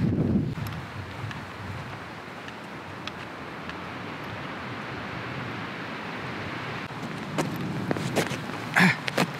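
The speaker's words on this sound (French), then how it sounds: "Il y a toujours beaucoup de vent" Strong wind buffets the microphone in a continuous low roar, with a few brief knocks and rustles near the end.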